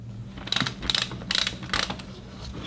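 Ratcheting 24 mm deep socket loosening the oil drain plug on a BMW G 650 GS motorcycle, four short bursts of metallic clicking close up over a steady low hum, with no voices.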